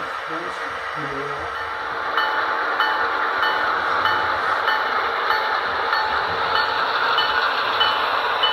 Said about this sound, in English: we will follow the Southern Pacific Coast Daylight passenger train as it tours